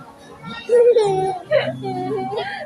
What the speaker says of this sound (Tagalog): Ingay ng bata ito.